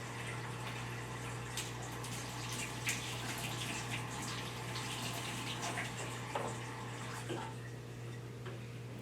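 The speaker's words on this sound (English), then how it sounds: "we're just gonna quickly run some water through the back just to kind of loosen it up" Warm tap water runs steadily over the back of a frozen plastic baby food cube tray in a kitchen sink, a constant close rushing wash with faint knocks and handling clicks and no talk.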